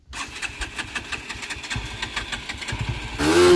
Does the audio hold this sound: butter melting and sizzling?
no